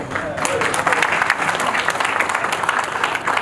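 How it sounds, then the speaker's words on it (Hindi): Steady, loud applause from an audience filling an auditorium at a doctors' felicitation ceremony in Patna, Bihar, with dense clapping throughout and a crowd murmur underneath. "एक बार जोरदार तालियों से इस प्रेक्षागृह को गुंजायमान कर दें।"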